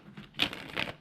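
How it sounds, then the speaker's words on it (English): Tarot cards shuffled by hand in two quick riffling bursts, close and fairly quiet, with no voices. "Let's give the cards a good shuffle."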